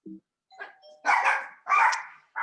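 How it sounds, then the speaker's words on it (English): A two-tone electronic doorbell chime sounds, followed by several loud, close dog barks in quick succession. "Sorry, doorbell's ringing"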